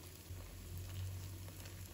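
Potato pieces pan-frying in oil over low heat give off a soft, steady sizzle with faint crackles, close by and fairly quiet throughout.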